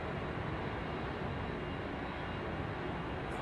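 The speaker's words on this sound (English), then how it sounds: "We've got a Logan Air ATR on his way out" Logan Air ATR turboprop departing at Heathrow, a steady broadband engine roar that stays loud and constant throughout, heard at a distance without any talk.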